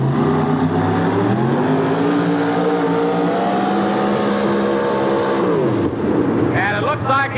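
A truck-pull vehicle's 640 cubic inch engine roars loud and close, rising in pitch under strain, then drops away sharply near the end as the run stops; an announcer talks over it.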